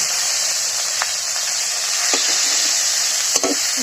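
Ground spice paste stirred into hot oil in a frying pan after fish has been fried, a loud constant sizzle with a few spatula scrapes and clicks.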